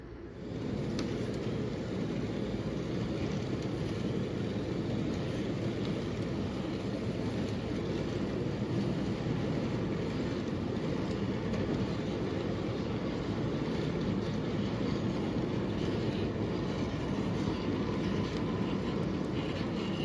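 A Williams B&O E7 model train set with new cars crawls slowly along the track, giving a steady, continuous low rumble and motor hum that stays even throughout, with no talking.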